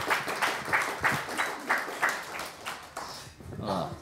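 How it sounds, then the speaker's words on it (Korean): A hall audience claps at a candidates' debate for a social workers' association presidential election in Gwangju, giving moderate applause with a steady pulsing beat. "박수 한번 쳐주십시오"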